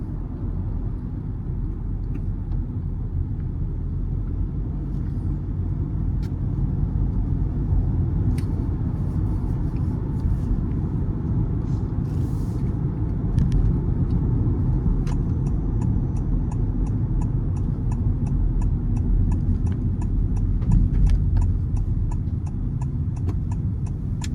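Honda City RS petrol car driving on the road and overtaking, a steady low engine and road rumble from inside the cabin with faint regular ticking, no talk.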